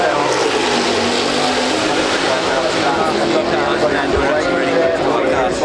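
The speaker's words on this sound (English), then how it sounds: "Le son de la T50." A Gordon Murray T50 road car with a V12 engine makes a loud, sustained roar at Goodwood, steady and close throughout.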